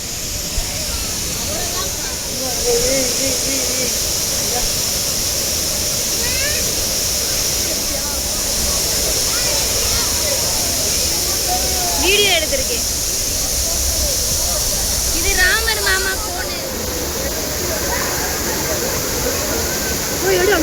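Suruli Falls pours down in a loud, constant roar of rushing water, with people talking and calling faintly in the background throughout.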